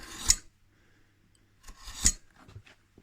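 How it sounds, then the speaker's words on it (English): A marking knife scores lines across timber for a traditional sash window weight door, in two short, sharp scraping strokes about two seconds apart, each a crisp rasp with quiet pauses around it. "we can just knife them across to our saw cut now"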